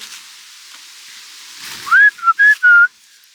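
A person whistles a short tune of four bright, sliding notes outdoors near an old tree, loud and close after a quiet stretch of faint background.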